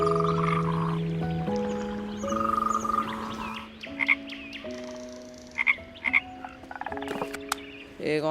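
Frogs croak in a close, loud chorus of steady tonal calls, shifting pitch in stages, with sharper chirps and croaks breaking in toward the end and no voices.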